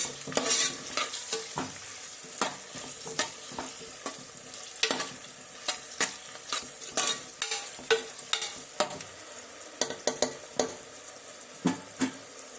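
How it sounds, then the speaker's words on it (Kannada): Chopped tomatoes and masala frying in a pan for egg biryani, with a steady sizzle under repeated sharp scraping strokes of a spoon, close and fairly loud, with no one speaking. "ಹಾಕಿ ಇದೆಲ್ಲ ಚಂದಾಗಿ ಇನ್ನೂ ಫ್ರೈ ಆಗ್ಬೇಕು ನೋಡ್ರಿ."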